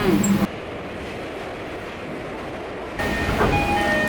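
A train in Japan rolling along the rails with a continuous low rumble and rattle, heard from inside the carriage; the noise shifts in tone partway through.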